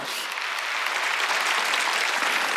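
A church congregation at a Wednesday worship service breaks into loud, sustained applause, a dense wash of clapping hands that fills the room for several seconds without any voice over it.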